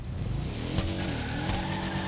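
A car in GTA V revs and moves off with tyres squealing and skidding, a steady engine drone broken by two sharp screeches, no voices.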